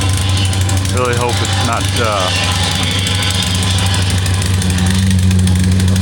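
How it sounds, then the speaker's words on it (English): A loud compactor engine with a bad engine idles with a steady, uneven low rumble and vibration while a person talks briefly over it. "That compactor does not sound good."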